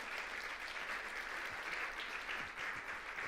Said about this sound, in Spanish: Denle un aplauso al Señor, no se detenga.